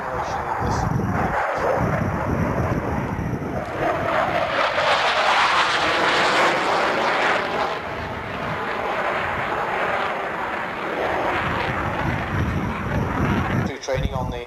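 Jet aircraft in a flying display at the 1993 Fairford airshow, a loud, sustained roaring engine rush rising and falling as it passes, with a commentator talking over it on the public address.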